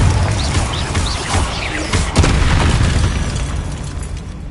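A Confringo fire spell bursts in Hogwarts Legacy, a loud booming explosion with crackling debris and a second heavy blast midway, set against game ambience.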